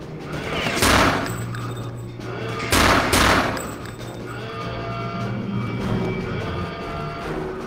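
Gunfire in the VR version of Return to Castle Wolfenstein, two loud bursts of rapid shots a couple of seconds apart, then a lower rumble of game effects and background music.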